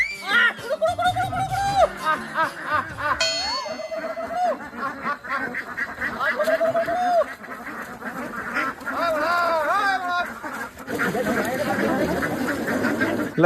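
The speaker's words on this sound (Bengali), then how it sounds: "দেখ হাঁসগুলো দেখ, ট্রেনিংটা দেখ, ডাকা মতো চলে এলো" Ducks trained to come when called quack repeatedly as they approach, a string of nasal calls close by, with people talking over them.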